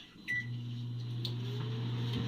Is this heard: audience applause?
no